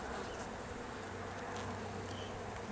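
Honey bees buzz steadily around two young, freshly mated queens on the same frame, a close, continuous hum of many wings that holds level without pause.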